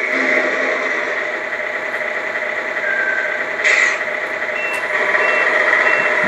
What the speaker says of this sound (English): my back beeper